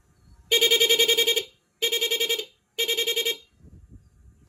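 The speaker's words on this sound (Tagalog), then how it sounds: "Para mag-iba-iba yung tunog ng ating busina." A motorcycle horn with a dual horn selector blares three times: a long warbling honk, then two shorter ones, loud and close, with quiet background afterward.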